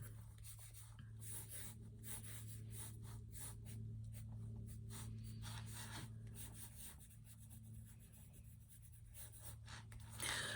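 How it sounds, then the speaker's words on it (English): Pencil sketching on the cover of a nature journal, faint rhythmic scratching strokes repeating close by over a low steady hum, with no talk. "So maybe I wanna do this and just briefly sketch out where I'm gonna put it."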